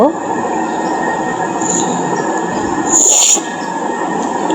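An amusement park train ride at Adventure Land, Narayanganj rumbles steadily along its track. A sharp, high wheel squeal rises briefly near the end over the constant rolling noise.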